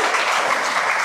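Steady applause from a crowd, dense and continuous for a brief moment with no pauses.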